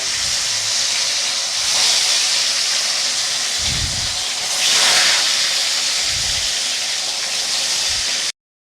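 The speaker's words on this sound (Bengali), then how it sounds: "তেল গরম হয়ে গেছে এখন মাছগুলোকে ভেজে নেব" Steady hissing sizzle of catla fish frying in hot oil, swelling louder twice, with low thuds in between and no talking.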